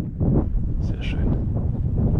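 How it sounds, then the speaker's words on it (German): Wind gusting across the Feldbergsteig mountain hiking trail in the Black Forest, a steady low rumble buffeting the microphone throughout, with a faint voice murmuring underneath. "Schöner Wind jetzt. Oh, cool schöne Abkühlung."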